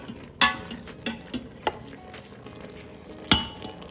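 Medium shrimp tumble into farfalle pasta cooking in an Instant Pot, giving a few sharp splashy clatters against a low simmering hiss, with a final louder thump near the end.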